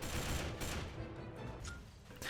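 Rapid gunfire and explosions from a video game form a dense, loud crackling burst that continues throughout, with no voices.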